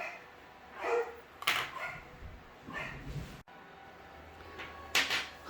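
Dogs bark in a few scattered bursts, moderately loud with quieter gaps between.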